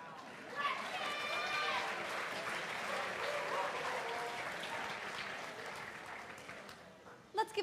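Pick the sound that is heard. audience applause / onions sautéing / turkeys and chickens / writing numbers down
audience applause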